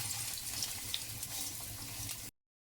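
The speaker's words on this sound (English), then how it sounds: "add in a little bit of oil on our pan. Okay, and I'm gonna add in the garlic" Garlic and onion frying in oil in a pan for a cassava and vegetable breakfast, a steady hissing sizzle that holds close and even, then cuts off abruptly.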